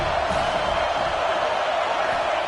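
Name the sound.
Alabama Crimson Tide football crowd cheering at stadium on third down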